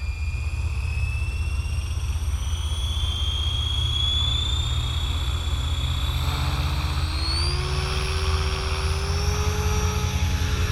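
Blade 500 3D RC helicopter running on a 3000 mAh Turnigy battery in 3D mode, a steady loud rotor drone with high whining motor tones that sweep upward near the end, continuous throughout with no talk.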